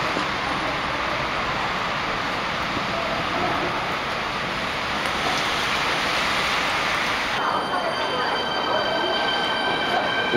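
A train rolls past at a station in Beijing on a rainy day, a steady close broadband rumble and hiss of wheels and rain that holds throughout, with a faint high squeal joining near the end.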